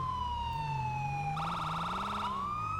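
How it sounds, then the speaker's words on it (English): Custom police sirens in modded GTA 5 wail steadily, then switch to a fast pulsing yelp before returning to the wail, loud and continuous with a low engine hum beneath. "these are the sirens."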